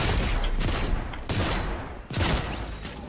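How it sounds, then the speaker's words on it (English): Rapid gunfire in a Fortnite match, several loud bursts of shots fired in quick succession with no voices. "it's more impressive that I managed to miss all 8 shots in a row"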